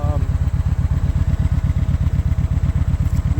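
A 2012 Kawasaki Voyager motorcycle idles up close, its engine firing in a steady, loping pulse that stays loud and even throughout.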